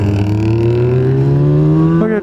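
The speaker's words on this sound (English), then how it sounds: "You can hear that supercharger clean." A supercharged 1700cc motorcycle engine revs loud and close, its tone climbing steadily with a clear rising whine before a quick blip near the end.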